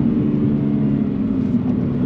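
A 2022 Subaru BRZ drives hard through wet turns, its engine droning steadily and loud up close, with a constant low rumble and no talking.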